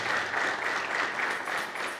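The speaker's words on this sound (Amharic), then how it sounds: "በደንብ አድርጋችሁ አጨብጭቡ" Audience applause at the unveiling of a cathedral's staff bylaws, a dense, steady clapping from a crowd that continues evenly throughout without voices over it.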